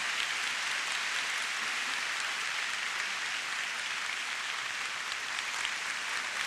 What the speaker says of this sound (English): let us all give Dr. Jane another great warm round of applause